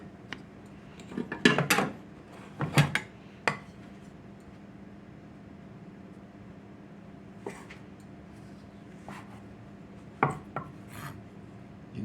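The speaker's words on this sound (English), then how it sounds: "I'm going to just load these on my air fryer basket" Slices of four-day-old homemade bread set into a metal air fryer basket, producing soft scattered rasps, taps and light clatters in short bursts separated by quiet stretches.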